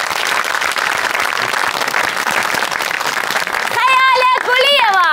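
Audience applause for comedy actors at a stage show, a steady dense wash of clapping that runs throughout, with a voice with musical tone entering over it near the end.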